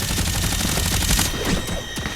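Minigun in a video game firing without letup, a dense, steady rattle of rapid shots with thumps mixed in, loud and continuous across the whole stretch with no voices.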